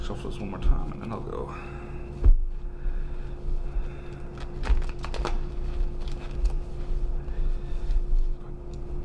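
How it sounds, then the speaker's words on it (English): Cards shuffle during a tabletop game session, soft riffling and tapping bursts that stand out now and then over room noise. "Shuffle this one more time and then I'll go."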